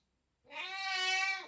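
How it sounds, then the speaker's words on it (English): A single long, drawn-out meow from a house cat, clear and fairly close in a kitchen, rising and holding before trailing off, with no talk over it. "I've got a noisy cat."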